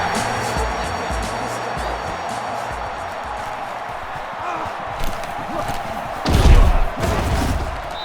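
A hard tackle impact in Madden NFL 09 on PlayStation 3, a loud low thud rising near the end over steady stadium crowd noise.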